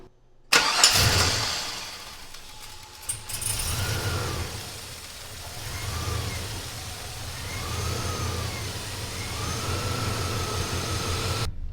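A 2000 Chevy Silverado with a ported and polished throttle body and cold air intake cranks with a clatter, catches, then settles into a steady idle that rises and dips unevenly.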